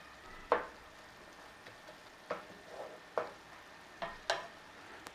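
Beef, onions and thyme fry quietly in a pan under a faint steady sizzle, with about seven scraping stirs and turns at irregular intervals, close and soft with no talking.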